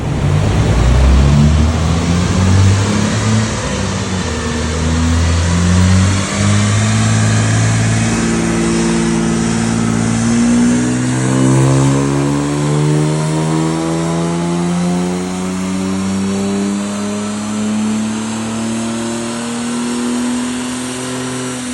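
Jaguar E-type engine fitted with a new exhaust system revving on a dyno, loud and close, climbing steadily in pitch through a long sustained pull with a gravelly exhaust note, no voices.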